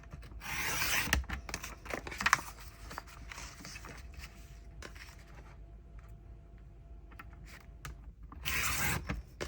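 Paper trimmed for a bullet journal spread: soft rasping cuts and faint clicks come in short bursts at close range, with a louder scraping pass at the start and again at the end.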